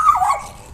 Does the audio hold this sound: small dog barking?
yes